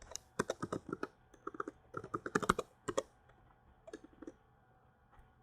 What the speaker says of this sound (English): If only I can type out properly.